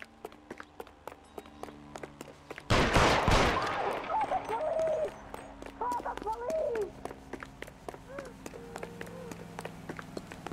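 Gunshots in the L.A. Noire video game: a loud burst of shots, then many sharp rapid cracks ringing out in a steady rhythm alongside faint shouting voices.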